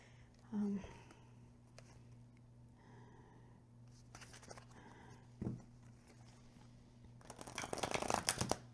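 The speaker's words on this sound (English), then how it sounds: "let's do a shuffle test now" A deck of 330 GSM playing cards riffles and shuffles in a quiet room over a steady electrical hum, building to a brisk, crisp flurry of flicking at the end.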